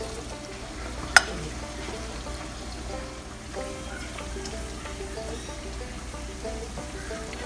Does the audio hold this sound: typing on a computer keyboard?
no